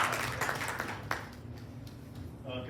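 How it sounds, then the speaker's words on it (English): An audience at Mercy Ridge gives a brief round of applause that starts fairly full and quickly fades to scattered claps, with a low hum underneath. "please give Phil a warm round of applause"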